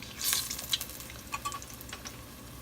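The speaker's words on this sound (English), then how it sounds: "I'm just gonna fry them up until they're golden brown on each side" Fish frying in a pan toward golden brown, a quiet crackling sizzle with light sputters and a few soft clinks, close but faint and without talk.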